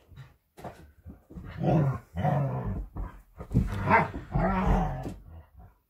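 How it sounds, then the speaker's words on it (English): Playful dog growls and short barks come in bursts with brief pauses between them, close and fairly loud. "Dogs are playing in the background."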